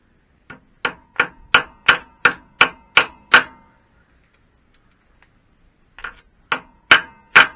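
A key is tapped into place on a Triumph Bonneville primary drive, with a run of eight sharp metallic hammer taps at an even pace, a pause, then four more close, crisp strikes.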